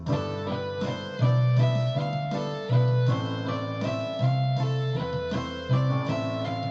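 Clean electric guitar picking a repeating six-note pentatonic phrase in even eighth notes, each note distinct in a steady rhythm, with the lowest note recurring as the pattern cycles, played alone.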